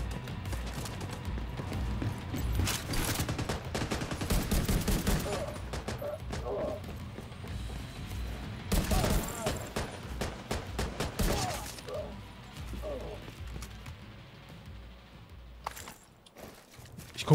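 Bursts of gunfire in The Division 2 crackle in several volleys, loud and close, separated by quieter stretches with footsteps and a voice talking.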